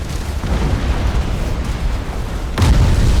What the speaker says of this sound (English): getting 3 uses of the Annihilator Cannon this round